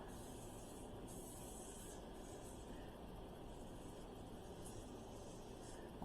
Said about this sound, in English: I'm going to spray it a little bit with some coconut oil.